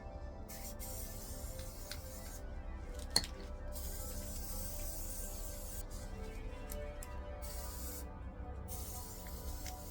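Steady, quiet hiss of Gorilla aerosol spray glue sprayed onto foam, running almost continuously, with a few brief pauses and a small click partway through.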